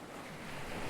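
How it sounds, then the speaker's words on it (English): Ocean waves and wind rush around a drifting boat far out at sea, a constant, fairly loud wash that swells slightly toward the end, with no voices. "We're just out here forever in the ocean."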